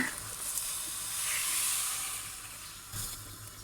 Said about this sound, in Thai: ใส่น้ำลงไปนะคะ